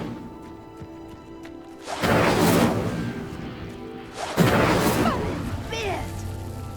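Incendio fire spell in Hogwarts Legacy igniting a pyre: two loud whooshing flame bursts a couple of seconds apart, each followed by a rushing crackle that fades slowly, heard up close without speech.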